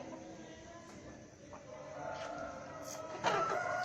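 A chicken clucks and gives a short crowing call amid low background noise, the calls fairly close and growing louder toward the end.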